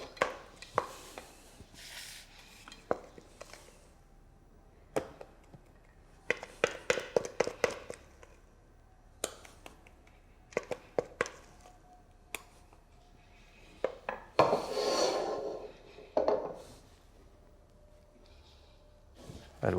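Spoon scooping filling into a pastry shell, with scattered light taps, scrapes and soft squishes at close range and an irregular rhythm, plus one longer rustling stretch partway through.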